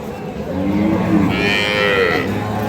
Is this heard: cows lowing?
yes